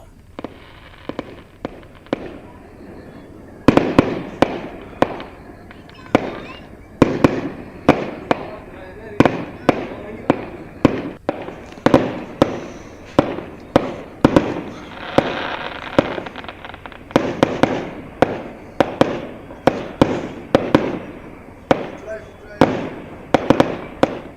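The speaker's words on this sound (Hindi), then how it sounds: "बड़े पैमाने पर आतिशबाजी की गई।" Fireworks at an Independence Day celebration on Hari Parbat in Srinagar. Loud bangs and crackling bursts go off irregularly, sometimes in quick clusters, for the whole stretch, and a voice can be heard at times underneath.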